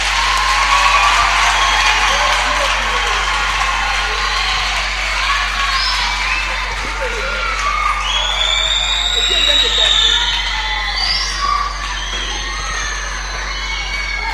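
A church congregation at a children's gathering claps and cheers loudly, with shouts and whoops rising over a continuous wash of applause that lasts throughout.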